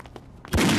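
A phone ringtone that sounds like gunfire bursts in loudly after a short, quiet stretch and then keeps going as a dense, continuous blast.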